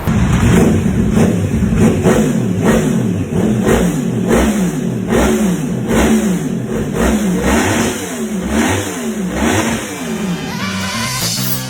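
Yamaha R1 sport motorcycle exhaust revving repeatedly, close and loud, with rhythmic rising and falling engine pulses in quick succession.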